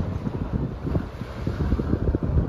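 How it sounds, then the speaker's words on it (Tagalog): Strong wind buffets the microphone in continuous low, gusty roaring, loud and close, at Kuwait Towers in Kuwait City, with no voices. "Ang hangin nga na."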